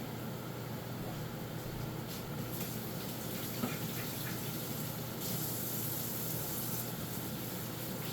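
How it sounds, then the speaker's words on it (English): Tap water runs steadily into a sink while hands are washed, a fairly quiet continuous splashing hiss with slight changes in the flow. "So we will give our hands a quick wash."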